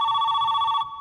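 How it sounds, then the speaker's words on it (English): A telephone rings in a Stranger Things scene, a steady electronic trill that holds loud and unbroken for most of a second, then cuts off abruptly near the end. "The phone is ringing, and Jonathan's asleep."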